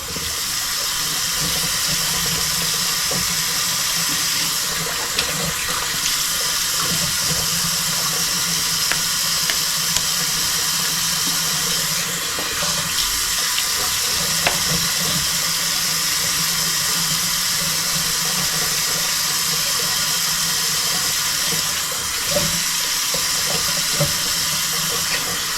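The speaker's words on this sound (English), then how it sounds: "I'm going to do a cold water rinse." Cold tap water runs steadily into a sink for a face rinse after a traditional wet shave, a constant close hiss and splash lasting the whole stretch with small changes as hands move through the stream.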